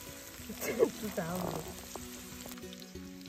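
Chicken frying on a clay roof tile gives a soft, steady sizzle, close and fairly quiet, with a brief tonal sound in the middle.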